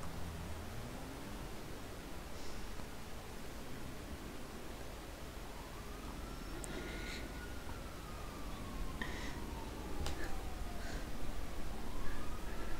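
Distant police sirens wail and rise and fall faintly over a steady background hiss, with no one speaking.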